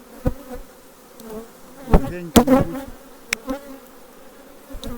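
Honey bees buzz steadily around hive frames during a beekeeping inspection of brood frames, with a few knocks and clicks from handling the frames and brief speech over the buzzing.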